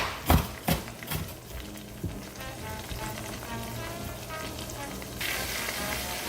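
Garlic sizzling in a pan for a light shrimp scampi sauce, with a few sharp stirring clacks at the start over a steady, close frying hiss.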